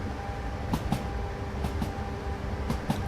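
Simulated train running on the Wakayama Line in Train Simulator, a steady low rumble of the railcar in motion with faint regular clicks of wheels over rail joints.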